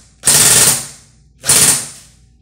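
A Cyma CM028U full-metal AK47 airsoft rifle fires two short full-auto bursts up close, each a loud rapid mechanical buzz of about half a second, separated by a pause.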